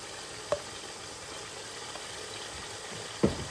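Onions frying in a pan with garlic ginger paste for biryani, a soft continuous sizzle with a couple of light clinks from a utensil against the pan.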